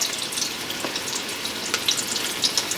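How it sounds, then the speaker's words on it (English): Oxtails brown in hot oil with a dense, steady sizzle and crackle, close and continuous, with occasional sharper pops. "the first thing we're going to do is get them browned up"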